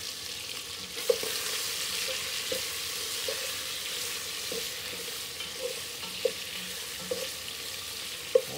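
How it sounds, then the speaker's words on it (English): Cabbage frying in hot oil in a pan, stirred with a steady broad sizzle and a few sharp scraping clicks of the utensil against the pan, close and moderately loud, no voices. "Give this a stir."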